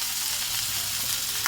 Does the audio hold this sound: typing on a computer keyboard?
no